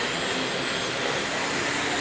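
Shop vacuum roaring steadily as it cleans a concrete floor ahead of an epoxy coating, loud, close and unbroken, with no voices.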